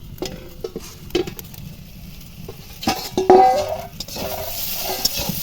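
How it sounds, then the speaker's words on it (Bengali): Pot lid lifted and eggplant and potato curry stirred with a spoon, scattered metallic clinks and scrapes against the pot with a brief bright ring, over a soft low simmer, no talking. "মাঝখানে আমি একবার ঢাকা খুলে নেড়ে দিয়েছিলাম, আবারও ঢেকে দিয়েছিলাম, আবার খুলছি ঢাকাটা।"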